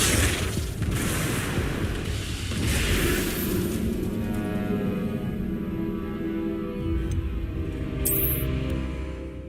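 Confringo fire spell blasts in Hogwarts Legacy, loud booming bursts with crackling fiery rumble, repeated across a dense, continuous battle din.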